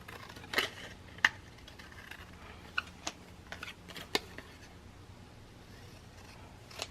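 Paper pieces for a handmade mini album being snipped with scissors, a handful of sharp, separate cuts spaced irregularly over a quiet room background, close and fairly soft.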